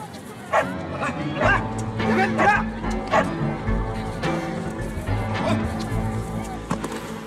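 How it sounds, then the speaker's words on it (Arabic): Several club dogs bark, yip and whimper in an excited jumble, close and loud, with voices talking over them throughout. "تجيب كلاب النادي"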